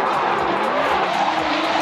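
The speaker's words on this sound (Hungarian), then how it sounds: "Ocsi, ott egy repülő, az is jön. Ez Cessna gyerekek." A steady engine drone of a Cessna light aircraft passing overhead at a speed festival, loud and continuous, with a faint rising whine and noisy outdoor background.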